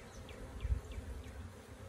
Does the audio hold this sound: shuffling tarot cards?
no